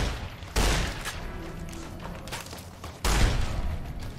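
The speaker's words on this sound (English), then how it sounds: "So let's go ahead and use the shotgun" Two loud, booming shotgun blasts ring out about two and a half seconds apart while firing at escaped convicts in Fallout: New Vegas, with lighter game clatter between them.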